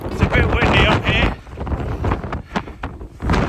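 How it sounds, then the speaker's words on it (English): Gusty wind on a Peak District hilltop summit roars and buffets the microphone in strong low rumbles while a person speaks over it. "It's a bit windy up here."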